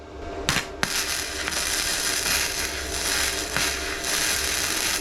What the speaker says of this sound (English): So we've got it basically tacked there, guys.